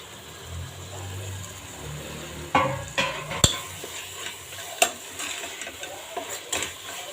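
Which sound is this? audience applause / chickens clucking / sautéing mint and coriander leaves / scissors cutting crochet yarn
sautéing mint and coriander leaves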